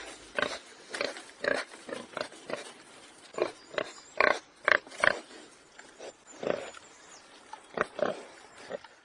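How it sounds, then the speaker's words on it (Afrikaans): Warthog vocalizing in a rapid series of grunting, squealing calls, about a dozen bursts spread evenly over nine seconds, fairly close and moderately loud with no talk. "dis die klank van 'n vlakvark"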